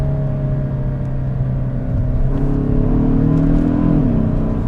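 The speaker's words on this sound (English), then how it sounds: "Downshift sounds pretty good." A 2022 Kia Stinger GT-Line with an 8-speed automatic downshifts with rev matching, its engine note blipping and climbing in pitch over a steady close cabin drone.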